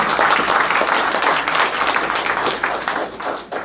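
An audience at a Congressional Gold Medal ceremony in Simi Valley bursts into loud, continuous applause, a thick wash of many hands clapping close by that fades slightly toward the end.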